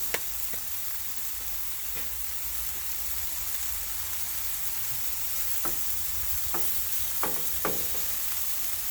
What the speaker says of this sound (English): take a little bit of butter, sit it right on there, and we're going to let that just melt right there